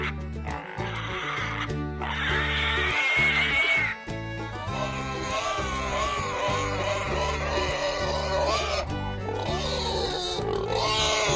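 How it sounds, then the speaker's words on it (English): A pig grunts and squeals repeatedly and at length, close and fairly loud, in a busy run of snorts and calls with no talking. "pig,"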